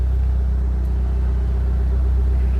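A Toyota Celica's engine idles with a deep, steady rumble close by, the throttle held at a low, even level for a few seconds with no talking.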